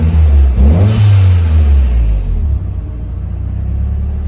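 Nissan SR20DET engine idling close by, a loud low rumble with a brief rev swell early on that settles back to a steady, slightly uneven idle.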